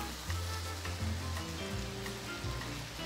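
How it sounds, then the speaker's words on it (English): Courgette filling frying in a pan and being stirred, with a continuous close sizzle and occasional soft scraping from the stirring, and no voices. "And you keep stirring it all in."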